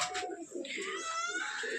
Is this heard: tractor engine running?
no